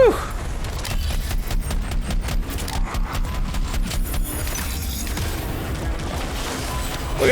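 Explosions and sniper gunfire in the video game Anthem, rapid bursts of shots cracking in a dense run before easing into a rumbling battle backdrop, moderately loud.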